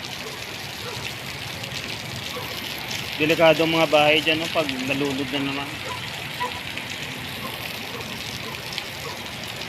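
Floodwater from the mountains rushes as a steady broadband roar during a typhoon with rain, with someone speaking briefly over the constant gushing flow.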